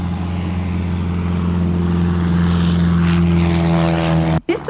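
A propeller biplane drones steadily overhead, a loud, continuous engine hum with strong low harmonics that holds for several seconds before cutting off abruptly.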